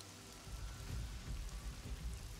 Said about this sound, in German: Es fängt an zu regnen.